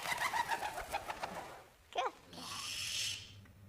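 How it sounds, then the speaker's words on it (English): Pigeons cooing in soft repeated throaty phrases at a moderate distance, followed by a brief rustle and a rising breathy wash near the end. "Pigeons, for example, are incredibly noisy"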